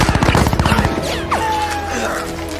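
Soldiers fire guns during an action film scene in Tokyo Drift, a burst of rapid shots at the start giving way to a dense, loud mix of effects and rumbling score.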